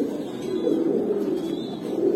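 Homer pigeons in a cage give a soft, continuous low cooing, close and steady throughout with no voices.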